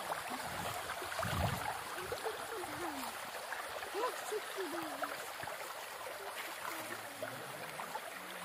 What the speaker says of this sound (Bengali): আর এই সেই জলরাশি যেটি সুবর্ণরেখা থেকে বয়ে যাচ্ছে সেই জল